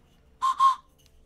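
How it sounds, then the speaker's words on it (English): A train whistle in the video game Terraria gives two quick, bright toots in a row, clean and isolated against near silence. "I have a train whistle"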